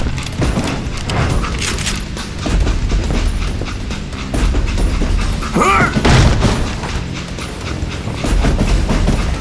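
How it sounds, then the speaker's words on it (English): A train running on rails in the Call of Juarez Gunslinger video game gives a loud, continuous rolling rumble with rhythmic clatter, broken by sharp bursts of gunfire and impacts. "It was then that Jesse detached the express car from the rest of the damn train."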